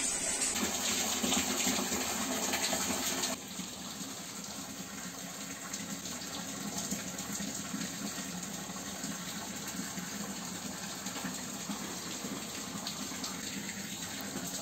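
Continuous rushing water, like a small cascade pouring steadily, with no break in the flow.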